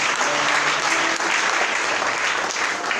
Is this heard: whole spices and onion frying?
no